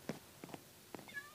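A cat in Minecraft gives a few faint, short meows in quick succession over a quiet background.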